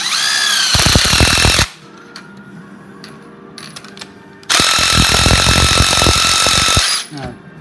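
An impact wrench hammers a socket onto a nut on a torsion rod during a Cidli torsion rod installation, two loud rattling bursts separated by a quieter pause with small clanks.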